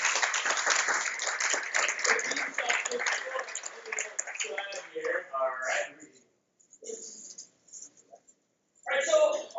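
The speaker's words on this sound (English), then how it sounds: "let's give them a big round of applause." An audience at a SharePoint requirements presentation applauds, a dense patter of clapping that thins into scattered claps, with someone speaking through and after it.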